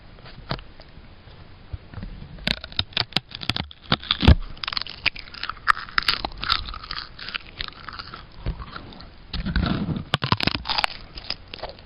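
Crunchy bites and chewing on grilled purple colored paper, close and crisp, with irregular sharp crunches and softer chewing in between.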